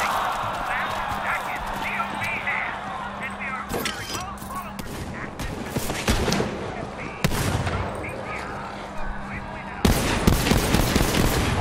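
Gunfire rattles in the shooter game Borderlands 3: repeated loud shots and bursts at uneven intervals, some rapid like automatic fire, mixed with other game effects while a voice talks over the action.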